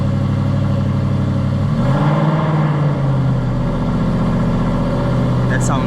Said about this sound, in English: V8 monstrosity.